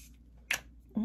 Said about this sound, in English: let's go in with some setting spray